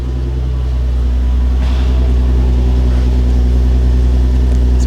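A Volkswagen Golf R32 with a stock exhaust idles after a cold start, a loud, steady low drone that stays even throughout with no voices.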